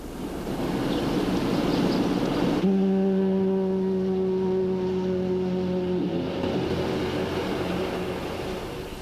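A single long, deep blast from the old St. Joseph diaphone foghorn with a steady low tone, sounding for about three seconds over windy outdoor background noise.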